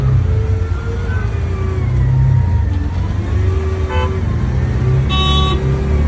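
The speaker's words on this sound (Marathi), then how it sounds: "खूप ट्रॅफिक आहे ह्या साईडला" Dense road traffic on a busy route near Ekvira temple at Karla, with engines droning steadily and several car horns tooting in short bursts, including a sharp, insistent honk toward the end.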